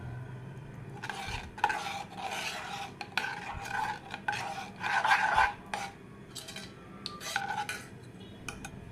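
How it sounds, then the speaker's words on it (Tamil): Caramel syrup is stirred into a pan of sago and vermicelli payasam, with intermittent scraping and metallic clinks of a spoon against the vessel in short irregular bursts, fairly quiet and close, with no talking. "இப்போ இதில் நம்ம எடுத்து வச்சுருக்கிற கேரமல் சிரப் ஆட் பண்ணி நல்லா மிக்ஸ் பண்ணிக்கோங்க."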